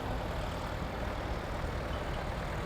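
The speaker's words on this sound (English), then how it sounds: "This tractor coming up here is famous." An antique tractor engine runs at a gas and steam engine show, giving a steady, loud, rumbling drone that carries on without a break and has no talking over it.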